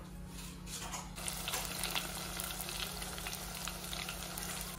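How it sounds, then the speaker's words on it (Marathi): Spices crackle and sizzle steadily in hot oil as tempering for an egg masala curry, a soft, continuous frying hiss with no talk. "इकडे ठेवले गरम करायला तेल, फोडणी द्यायची।"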